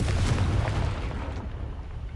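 A Confringo blasting spell from the Hogwarts Legacy video game erupts in a loud, sustained boom with deep rumbling low end, a burst that slowly fades while the roar lingers through the short stretch.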